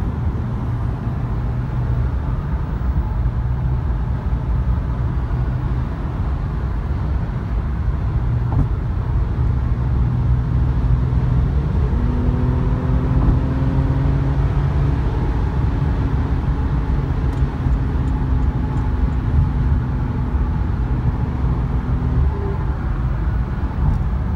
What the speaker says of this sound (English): right now I'm driving through a little town